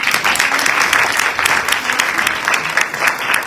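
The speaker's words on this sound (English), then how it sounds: "we can clap for that" Hearty applause fills the room at a scholarship recognition brunch as the audience claps to celebrate the students, a steady, close wash of many hands for a few seconds.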